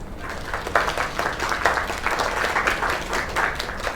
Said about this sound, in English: That was Kay, people. Another round of applause.